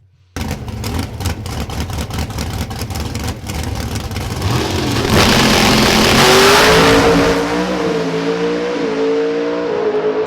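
Pro Stock drag race cars roar loudly at a race, engines screaming at full throttle from the launch and rising in pitch as they accelerate down the strip, with no talk.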